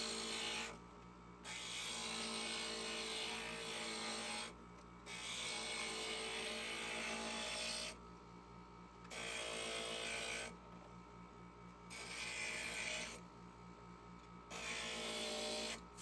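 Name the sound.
grinder grinding stained glass pieces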